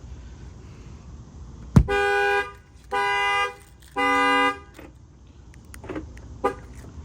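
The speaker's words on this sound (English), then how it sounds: "the factory alarm is going to set off." A sharp bang sets off a Dodge Charger's factory alarm with a shock sensor add-on, its horn honking three times in long blasts, followed by faint clicks and small knocks.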